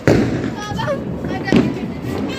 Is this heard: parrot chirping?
no